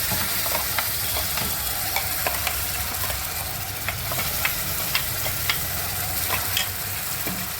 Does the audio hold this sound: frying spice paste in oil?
yes